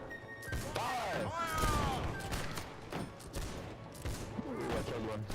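Musket volleys and gunfire crackle through a Holdfast: Nations At War battle, with several sharp blasts and bursts over a steady din of combat, while a voice shouts orders in the mix.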